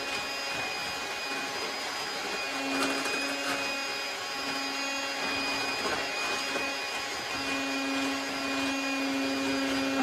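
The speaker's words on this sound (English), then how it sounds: "Gonna get a little noisy, but we're gonna try to blend this here with just our plain little mixer" A plain little kitchen mixer blends a homemade body care product, a steady loud motor whine running through the whole stretch with shifting pitch as the blades work the mixture; no one speaks over it.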